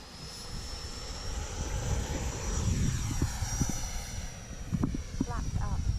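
An Arrows RC Marlin EDF jet model on a 4-cell battery with takeoff flaps down spools up, a steady whining electric ducted fan roar building and holding close by, with wind noise and a voice talking briefly near the end.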